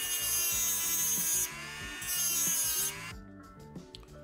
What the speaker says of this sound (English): what I need to do is polish the head of this screwdriver